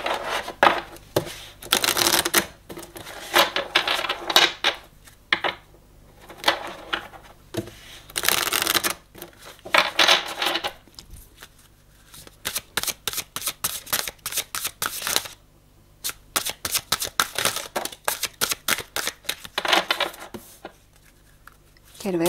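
Tarot cards being shuffled and drawn, with repeated crisp riffling and flicking bursts and rapid card snaps, close by, alternating with stretches of talking.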